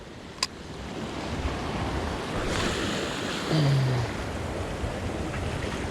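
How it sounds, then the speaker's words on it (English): An ocean wave breaks over coastal rocks with a broad rushing wash of surf, wind buffeting the microphone throughout and a brief sharp knock near the start. "That's the first wave I've seen break over the top of that today"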